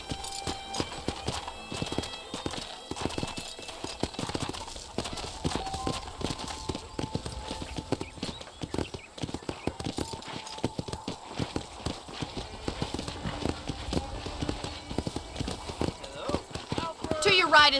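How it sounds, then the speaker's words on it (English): Horse hooves clip-clopping in a rhythmic trot while riding in the video game Red Dead Redemption, steady and close throughout, with a voice talking over them and occasional whinnies. "let's see if you can still ride a horse."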